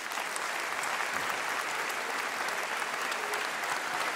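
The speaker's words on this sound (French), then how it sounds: "je vous demande de faire un tonnerre d'applaudissements pour monsieur Arnaud Joyet" Dense, steady applause from a theatre audience welcoming a comedy performer on stage, heard alone at even loudness with no talking over it.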